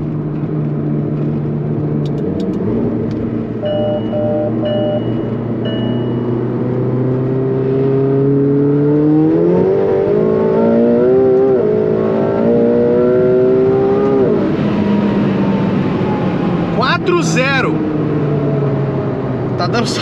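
A carbon-bodied sports car accelerates hard in a timed run. Its engine note climbs steadily through the gears, loud and close, and rises sharply midway. A voice may be talking underneath.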